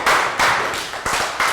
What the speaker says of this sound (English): Round of applause for down.